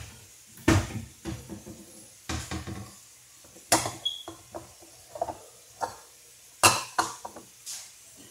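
Cupboard doors knock and a bowl clinks as it comes out of a kitchen cupboard: a string of sharp, close wooden thuds and light ceramic taps, spaced irregularly across several seconds with quiet gaps between.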